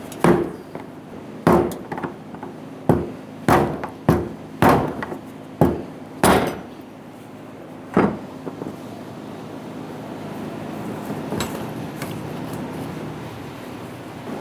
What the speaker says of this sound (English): I'm going to use a rubber mallet and a brass punch